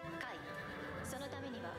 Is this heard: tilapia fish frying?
no